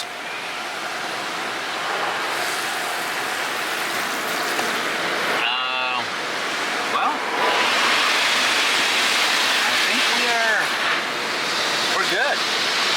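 Water sprays steadily over a Ford Bronco with its top removed inside an automatic car wash, a continuous loud hiss like rushing surf, with brief mechanical whirs from the wash equipment partway through.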